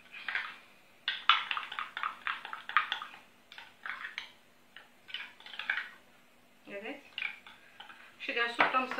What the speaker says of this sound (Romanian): amestecăm așa bine toate ingredientele